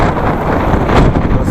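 Strong headwind on a long-distance road trip through Gansu, China, buffeting the microphone as a loud, continuous roar with gusty swells, no other sounds standing out.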